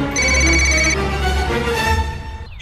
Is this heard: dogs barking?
no